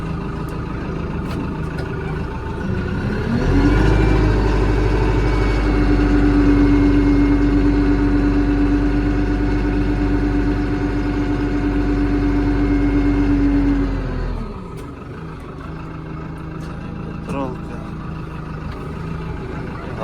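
A Lovol P4110 tractor's heavy engine rumbles steadily in a small garage, rising to a louder, higher-pitched drone for about ten seconds before dropping back to a lower idle.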